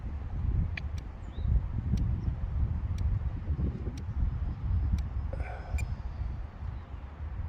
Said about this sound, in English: the wind wants to kick up even higher, even more now